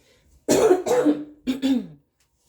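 Three or four harsh coughs in two quick bursts, close and fairly loud, with brief silence before and after.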